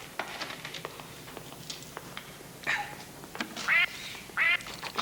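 Electronic duck quacks from a faulty arcade duck-shooting game, three or four short nasal honks rising over faint clicking and pattering noises, fairly close and moderately loud, with no talking.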